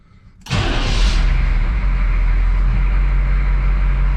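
A big truck's 6.2 V8 engine cranks briefly and roars to life, then settles into a loud, steady, deep idle close by.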